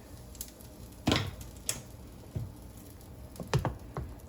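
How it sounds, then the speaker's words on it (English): Chopped vegetables are dumped into a pot of potato sauce and stirred, giving a few wet squishing thuds and soft scraping pats spread over a few seconds, close with no talking. "I am going to just, without splashing too much hopefully, dump all these veggies in there"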